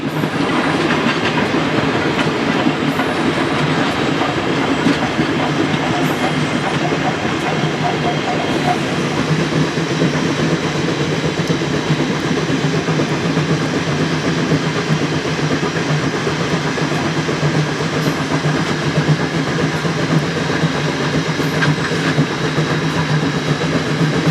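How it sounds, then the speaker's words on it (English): Woodstown Central Railroad No. 9 steam train rolls steadily over Oldman's Creek in rural New Jersey, with rumbling wheels and rhythmic clacking on the rails, a continuous loud rush of noise throughout. "A little further northward, the train crosses over Oldman's Creek"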